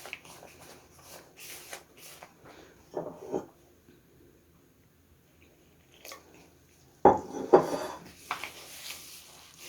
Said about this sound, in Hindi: आइए हम अपनी रोटी का आटा गूंद लेते हैं।